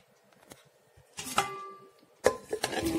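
Jackfruit pieces tipped into a pressure cooker, a few clattering thuds and scrapes close by with a louder burst of knocks toward the end, no talk.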